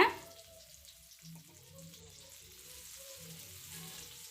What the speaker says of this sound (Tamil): இப்போ நம்ம மசாலா தடவி வச்சுருக்கிற கிழங்க வந்து இதில் சேர்த்துக்கலாங்க